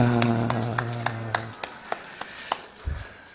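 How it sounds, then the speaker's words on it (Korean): Church congregation clapping for the kimchi-making volunteers, with a low voice fading out early and then a run of sharp, evenly spaced claps, close and distinct. "우리 같이 수고하신 모든 분들께 우리 힘있게 박수해 주시기 바랍니다"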